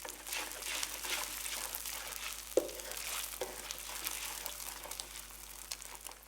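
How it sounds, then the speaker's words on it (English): Eggs fry with chili paste and oil in a hot wok, a steady close crackling sizzle broken by light stirring scrapes and one sharp clink of a utensil against the pan. "Blend the eggs through the chili paste and oil until they start to cook through."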